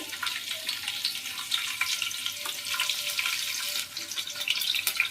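Chopped garlic sizzles in hot oil in a pan, a steady bright hiss with scattered spits and crackles throughout, moderately loud and close, with no talking.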